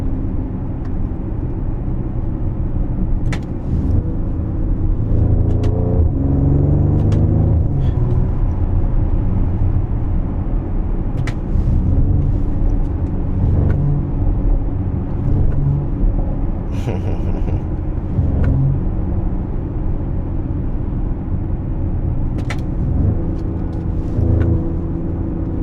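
A Mercedes GLE's engine runs steadily with a low, continuous rumble, close and fairly loud, with a few faint knocks and clicks over the drone and no talk.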